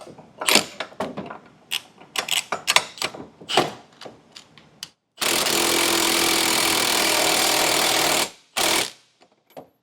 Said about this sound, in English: I did kind of hammer it down with my 1/2 inch impact